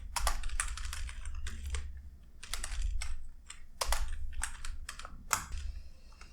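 Code is typed on a computer keyboard in quick irregular bursts of crisp, close key clicks with short pauses between runs and no talking.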